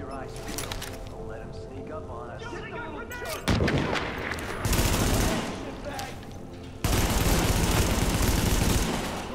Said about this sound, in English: So much recoil on this gun, man.